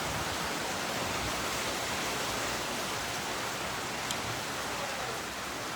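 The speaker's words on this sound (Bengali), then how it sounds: "বাইরে অনেক বৃষ্টি হচ্ছে, এই দেখেন বাইরে কতটা বৃষ্টি।" Heavy rain falls outside in a dense, steady hiss that fills the whole stretch evenly. It is loud and constant, with no voice over it.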